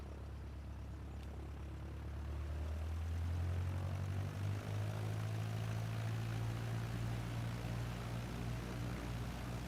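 A small propeller plane's engine spins up for takeoff, its droning hum climbing steadily louder and lower-pitched after about two seconds and then holding a strong, even tone with no talking.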